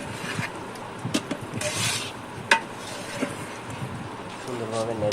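Meat frying with spices for biryani in a pot over a wood-fired village stove, with scraping stirs, metal clinks and a steady sizzle running throughout at close range.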